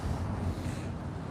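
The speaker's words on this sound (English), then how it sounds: "It's super windy." Strong gusty wind outdoors at a street rally, buffeting the microphone with a low, rumbling roar that stays loud throughout this short stretch, with no speech.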